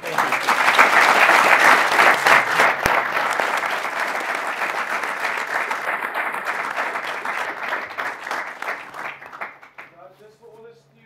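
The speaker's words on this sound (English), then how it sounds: "A round of applause also to the panel." Loud audience applause for a panel at an agricultural youth discussion at Nampo 2018, dense clapping that slowly thins and fades before a voice speaks at the close.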